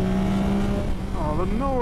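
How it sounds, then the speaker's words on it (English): A 2024 Yamaha XSR900 GP motorcycle revving, with the airbox roar rising and falling in pitch, loud and close. "the noise from the airbox is so lovely."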